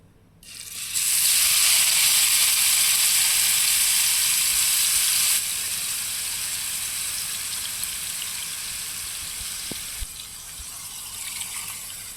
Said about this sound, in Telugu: సో మసాలా చూసారు కదండి ఎలాగా ఫ్రై అవుతుందో